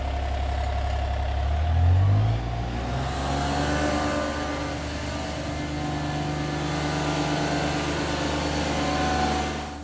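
A ride-on tractor mower engine, with the motor driving hydraulics, runs loud and close, briefly revving up early on and then holding a steady drone.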